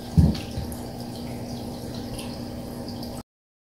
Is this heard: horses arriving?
no